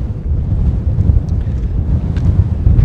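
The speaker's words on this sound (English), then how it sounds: "This wind is insane." Strong desert wind buffets the microphone in a continuous loud low rumble with gusty surges, no voices present.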